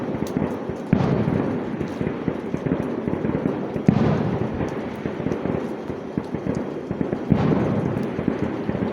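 Fireworks bursting in the night sky near a rainy woodland campsite, a dense continuous crackle and rumble with sharper booming bangs standing out now and then.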